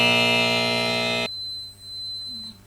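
A quiz buzzer pressed by a school team gives a loud, sustained electronic buzz lasting just over a second before cutting off sharply, leaving a faint tone and quiet room.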